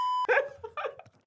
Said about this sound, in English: I got beeping power